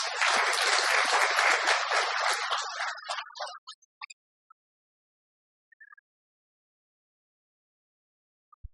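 An audience claps together in warm, dense applause that lasts a few seconds, then thins into a handful of scattered claps and falls silent.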